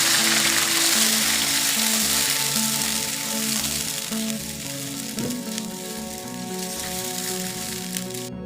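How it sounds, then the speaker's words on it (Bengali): Marinated chicken pieces for biryani fry in hot oil, a loud, continuous sizzle with a faint steady hum underneath and occasional clinks of stirring. "একই তেলে ম্যারিনেশন করে রাখা মাংসের টুকরোগুলোকে দিয়ে খুব ভালো করে এগুলোকে কষিয়ে নিতে হবে"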